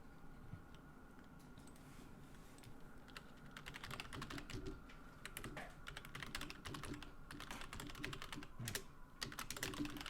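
Quiet clattering of a computer keyboard, rapid irregular keystrokes while searching a document with Ctrl+F, close and steady across the span with no talk.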